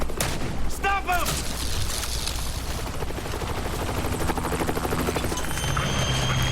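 Helicopter rotor thump and bursts of rapid gunfire from a video game trailer shown at a press conference, loud and continuous, with shouted voices mixed in over the din.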